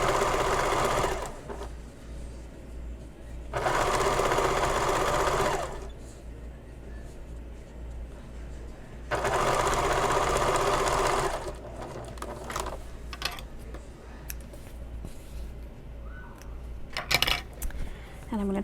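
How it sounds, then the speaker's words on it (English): A sewing machine stitching bias tape onto the curved edge of a fabric bag, running in three loud bursts separated by pauses with faint handling clicks and rustles between. "sewing on the fold, which is 3/8 of an inch from the edge, and follow the curve with both the bias tape"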